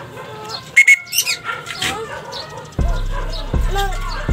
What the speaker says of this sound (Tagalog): may ibon ulit tayo